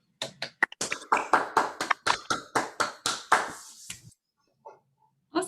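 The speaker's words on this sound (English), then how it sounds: "Let's everyone please unmute, and we'll do a round of applause." A seminar audience claps together over a video call, sharp separate hand claps coming in a quick, slightly uneven run for about four seconds, then thinning to a few stray claps against near silence.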